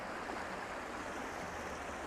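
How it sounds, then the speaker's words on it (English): A babbling brook runs through a forest along a bike trail at Potato Creek, a steady, close wash of flowing water lasting the whole moment with no voices over it. "And then we have a babbling brook,"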